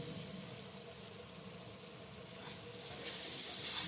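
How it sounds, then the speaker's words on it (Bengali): Raw ground spice paste hits hot oil in a pan while cooking a rohu fish curry, giving a faint, continuous sizzling hiss that swells slightly toward the end, with no talk. "আমি এখানে কাঁচা কিছু বাটা মশলা দিয়ে দিচ্ছি"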